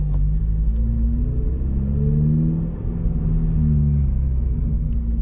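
A Subaru BRZ with a manual gearbox pulls away in first gear, its engine a loud low rumble that rises in pitch as it gains revs, dips briefly, then climbs again, heard from inside the car.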